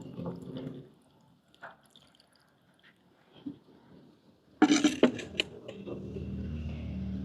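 Water splashes and pours into soaked tamarind for a Jaffna-style paarai fish theeyal curry, starting as a few soft drips and then swelling into a brief, close gush in a quiet kitchen.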